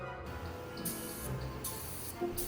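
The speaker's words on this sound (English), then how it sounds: "We sprayed a thin layer of pearl over the handle" Pearl paint sprayed from a can over a carved wooden wand handle, heard as two or three close hissing bursts with short pauses between them, each a broad bright spray.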